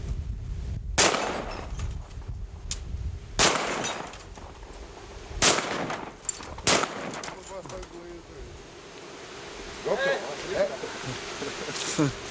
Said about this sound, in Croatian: Šta imate da kažete posle ove pucnjave?